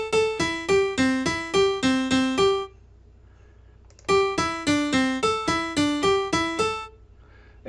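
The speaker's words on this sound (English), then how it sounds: "I can pick random pentatonic notes" Random pentatonic notes played on a bright plucked synth-like instrument, two quick runs of about a dozen evenly spaced notes each, separated by a short near-silent gap.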